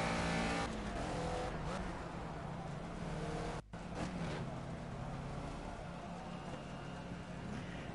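A race car engine in the Project Cars video game drones steadily as the car drives into the pits, a continuous dense roar with one brief dropout midway.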